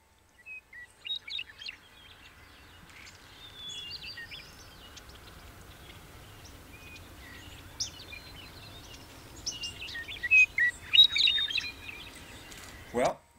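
High, sweet bird song in a series of warbling phrases with short gaps between them, moderately distant, ending with a sharp click.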